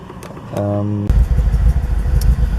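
A four-cylinder BMW E46 with cylinder misfires first gives a brief tonal hum, then its engine catches and runs with an uneven, lumpy low rumble and irregular pulses, close and fairly loud.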